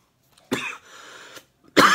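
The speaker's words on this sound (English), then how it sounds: "edit that cough out in post" Two sharp, close coughs about a second apart, with a softer raspy breath in between.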